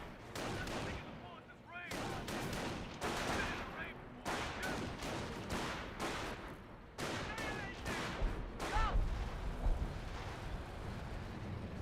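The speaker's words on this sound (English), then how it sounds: "Here's some more from half-track barrages running on in somewhere" Half-track barrage gunfire in Company of Heroes, repeated heavy booms and crackling volleys rolling on throughout, loud and dense, with a caster talking over the battle.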